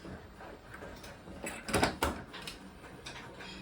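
A quadrant shower enclosure's doors swinging shut and meeting on their magnetic seals, giving a short soft clack and rattle amid light handling noise, close by in a bathroom.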